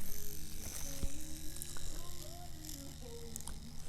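A permanent makeup machine fitted with a 7-configuration round magnum needle buzzes steadily up close, a continuous motor hum with faint clicks and some background noise.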